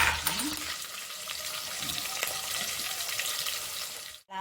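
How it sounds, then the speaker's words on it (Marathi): Lengthwise-sliced onions fry in a pan with curry leaves, a soft continuous sizzle with a few faint clinks and stirring sounds, ending in a brief drop to silence. "कांदा टाकला उभा उभा चिरला कांदा फ्राय कर"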